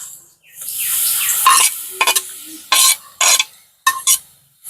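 Cabbage, carrot and green chilli tipped into a pan of frying onion and potato bring a burst of sizzling, followed by several short, sharp bursts of hissing and scraping as the mix is stirred.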